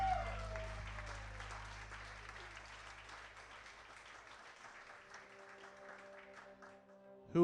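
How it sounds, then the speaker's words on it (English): Wedding guests applaud in a brief burst of clapping that fades gradually over several seconds, with a faint tone lingering beneath and a sudden louder sound right at the end. "Let's give Christian and his mom a big round of applause,"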